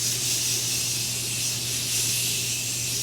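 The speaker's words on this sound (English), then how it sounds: "I'm gonna use the Morphe setting spray mist." A Morphe setting spray mist sprays in one continuous hissing burst close by, a steady airy spray held for about three seconds over a faint low hum.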